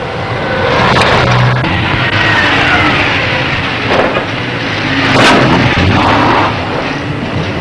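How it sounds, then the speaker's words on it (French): A newly assembled car's engine starts under its own power for the first time on a 1968 factory line at Sandouville near Le Havre, a loud, continuous rumbling roar with heavier surges near the middle and end. "Une voiture démarre pour la première fois par ses propres moyens"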